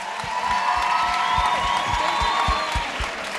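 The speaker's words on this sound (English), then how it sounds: "Give yourself a round of applause" Applause and cheering from the audience at the main stage of the Orange Farm EmpowaYouth 2023 youth event, a steady crowd roar with scattered claps and whoops lasting the whole stretch.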